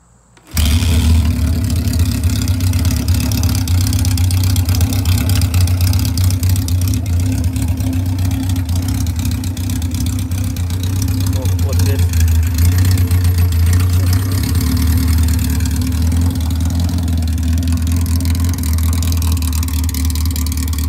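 A Honda CB550F motorcycle engine idling after a cold start, a steady low, throbbing rumble with a slightly uneven beat that carries on unbroken and fairly loud throughout, no voices over it.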